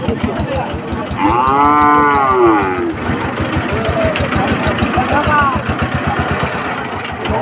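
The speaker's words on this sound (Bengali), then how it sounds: "অনেক গরু আছে এখানে, সুন্দর সুন্দর গরু এই হাতে আছে।" Cattle, including bullocks and calves, at a busy rural cattle market: a loud, drawn-out moo nearby and a fainter one later, over a steady engine rumble and people talking.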